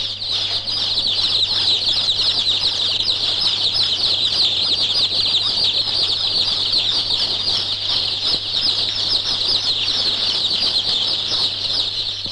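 Dense clucking and squawking from a large flock of hens and roosters fills a poultry farm house, a continuous loud chorus over a steady low mechanical hum, with no talk.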